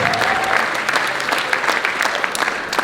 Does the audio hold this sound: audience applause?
yes